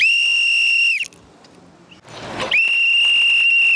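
A shrill whistle blown hard in two long blasts, loud and close, separated by a brief gap of breathy noise and rustling.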